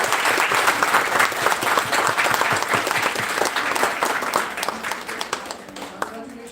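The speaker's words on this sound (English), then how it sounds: "Big round of applause to them." Audience applauding at the valedictory ceremony of a national moot court competition, dense steady clapping that thins out near the end.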